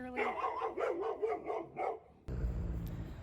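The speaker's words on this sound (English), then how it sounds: "Stop barking at people walking their dogs, okay?" A small pet dog yaps in a quick run of about six pitched barks at people walking their dogs, then the sound cuts to a steady background hiss.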